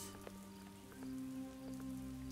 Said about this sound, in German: Der Regen ist natürlich auch noch immer da.